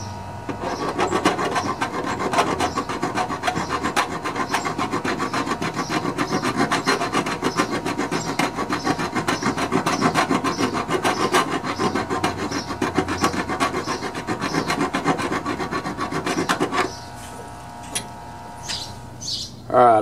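Hand file rasps back and forth steadily against a metal mower deck plate on a Poulan Pro lawn tractor, close and rhythmic for about seventeen seconds, then stopping as birds chirp faintly in the background.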